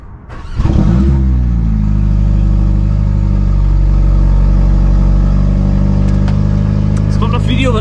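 A Mercedes-Benz V-Class van's engine fires up close by and settles into a loud, rumbling rev from its opened exhaust, held steady for several seconds with faint clicks near the end.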